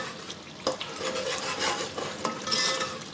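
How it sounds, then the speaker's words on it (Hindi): Spiced masala frying in a pan for stuffed capsicum, stirred with a utensil that scrapes and clinks against the metal over a continuous sizzle, close and alone without voices. "यहाँ देखिए, मसाला भी हमारा अच्छी तरह भुन रहा है।"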